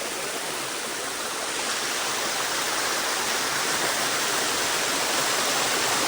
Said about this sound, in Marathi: हे बघा, हा पूर्ण पायऱ्यांचा धबधबा.